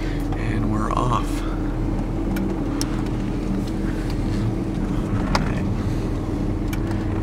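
A 2000 Porsche Boxster S with a manual gearbox pulls away, its engine a steady low drone heard from inside the cabin with wind rush and a brief voice early on.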